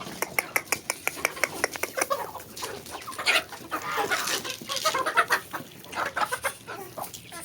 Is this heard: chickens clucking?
yes